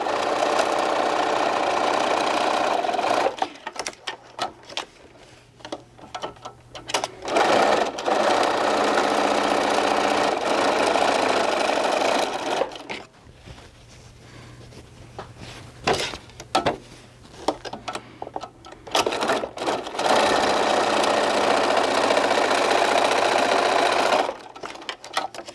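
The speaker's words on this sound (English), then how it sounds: "We're gonna sew the bottom." Sewing machine stitching the bottom of a fabric bag, loud rapid mechanical whirring in several bursts separated by short pauses, close up and with no talking.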